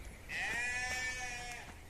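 A lamb lets out one drawn-out, wavering bleat, close and clear, lasting over a second before trailing off.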